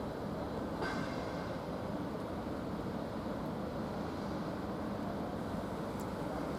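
A train standing at Basingstoke railway station gives off a steady, broad rumble that holds evenly throughout, with a faint brief squeal near the start and no talking.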